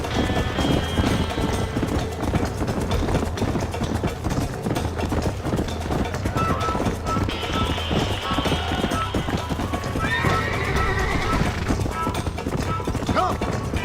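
A horse gallops steadily with continuous hoofbeats and rushing wind in Red Dead Redemption, with brief whinny-like tones on top, loud and close.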